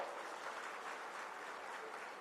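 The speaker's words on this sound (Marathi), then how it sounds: "एकदा राज्याच्या मुख्यमंत्र्यांसाठी जोरदार टाळ्या वाजवा" Applause for the state chief minister at a public speech, a dense, even wash of clapping from a crowd, faint and distant throughout.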